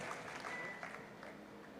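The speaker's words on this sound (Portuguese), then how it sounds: "com uma salva de palmas" Church congregation applauding for a pastor, a steady wash of clapping throughout at moderate distance, fairly faint and continuous without clear breaks.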